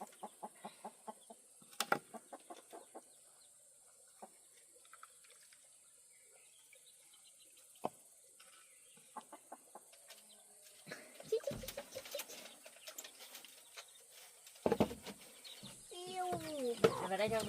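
Chickens cluck and call in a short burst near the end, close by and moderately loud over a quiet rural background, with a few faint earlier calls and occasional soft sounds.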